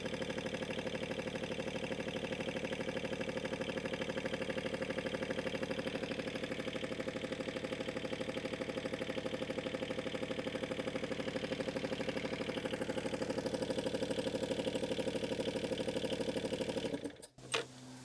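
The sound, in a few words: John Deere 2653a mower engine idling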